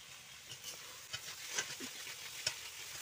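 Pointed gourd cooking with soybean in a pan, a faint low sizzle with occasional light scrapes and taps of a stirring utensil, quiet and close.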